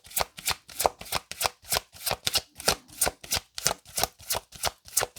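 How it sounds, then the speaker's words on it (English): Tarot cards being shuffled by hand in a steady run of about a dozen crisp riffling slaps, close and clear with no talking over them. "I'll give it a couple shuffles."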